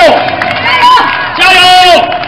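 A large crowd at a street rally and protest march cheers, whoops and applauds loudly in continuous waves, with shouting voices rising over the din.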